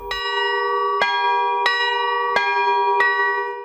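Church bells ring out in a steady, resonant sequence of five strikes, each tolling note ringing on into the next, as parishioners pull the clappers on newly installed bells bearing family coats of arms.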